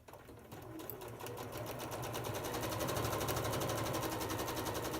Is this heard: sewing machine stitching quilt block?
yes